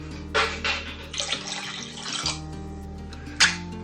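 Two cups of water being poured while making homemade Mexican horchata, a steady splashing pour with a few louder bursts, close and alone with no talk.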